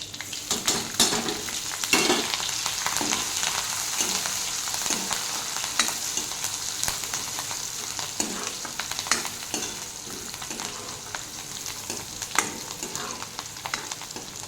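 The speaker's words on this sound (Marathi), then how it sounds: "लसूण मिरची आता दोन मिनिट मी परतून घेणार" Garlic and green chilies fry in hot oil with a continuous crackling sizzle, punctuated by repeated rhythmic stirring scrapes of a spoon in the pan, close and steady with no talk.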